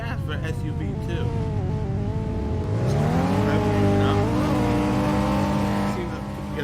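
A 2016 Honda Pilot SUV engine in a racing video game hums steadily, then revs upward in a rising, drawn-out pitch before settling into a higher drone, with a voice talking over it.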